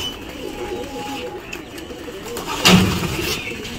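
Pigeons cooing softly as they are let out of their coop, faint calls over low background noise, followed by a brief burst of flapping wings near the end.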